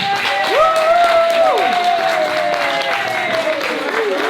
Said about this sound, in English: I want you to give a round of applause for Dr. Ari Araba